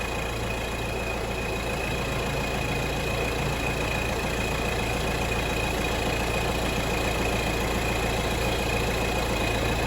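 A Citroen C3 Picasso engine idles just after an oil change, a steady, close, even hum that stays constant throughout.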